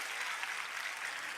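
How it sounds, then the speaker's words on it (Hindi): Children clap for themselves in a brief, steady burst of applause at a school awareness ceremony, the dense patter filling the moment with no talk over it. "तो अपने लिए ताली बजाओ"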